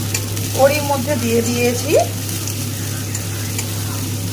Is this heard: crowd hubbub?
no